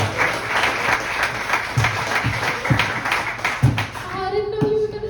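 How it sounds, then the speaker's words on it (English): An audience at a poetry and music jam breaks into sustained applause, a dense patter of many hands clapping close by, fading as a voice begins speaking at the end. "I didn't know you were gonna start clapping for that."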